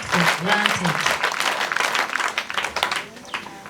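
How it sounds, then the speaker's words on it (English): An audience applauds in a hall, a crackling wash of clapping that rises as a voice trails off at the start, then thins out toward the end. "Can we applaud God?"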